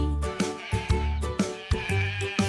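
Sheep bleats ring out in a children's nursery song, several short bleating calls repeating in rhythm over a bright musical backing.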